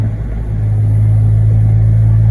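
An Audi car driving on a straight road without its key fob, its engine giving a steady, loud mid-low rumble throughout with no clear revving peaks.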